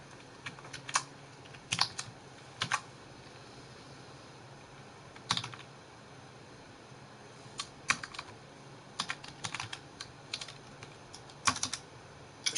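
Someone types on a computer keyboard in irregular clusters of clicky keystrokes with short pauses, close up over a faint steady background hiss.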